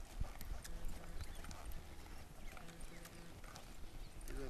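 Hooves of a horse under saddle clip-clop in an irregular rhythm on the ground, faint and fairly close, with no speech over them.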